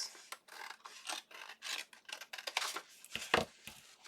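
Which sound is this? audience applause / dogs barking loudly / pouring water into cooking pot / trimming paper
trimming paper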